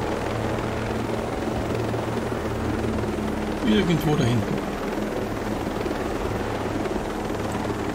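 Helicopter flying in Ghost Recon Breakpoint, a steady rotor drone that carries through the whole stretch and swells briefly near the middle, with someone talking over it.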